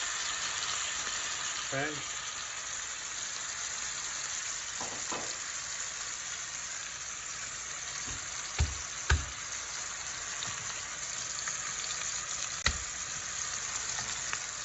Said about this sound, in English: you want to hear that nice sizzle as it goes in